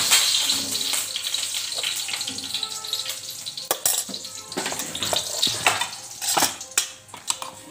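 Cumin seeds sizzle in hot oil in a pan, a steady close frying hiss with a few clinks and sharp ticks toward the end.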